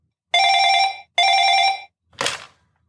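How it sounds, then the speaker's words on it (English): Two long, bright electronic bell rings with a short gap between them, loud and close, followed by a brief clatter like a handset being lifted. "The phone is ringing, sir."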